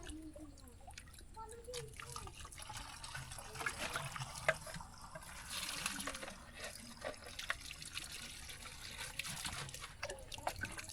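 Faint water trickles and splashes as a villager scoops clear water from a spring, with soft intermittent drips and quiet talk nearby.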